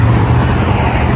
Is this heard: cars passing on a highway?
yes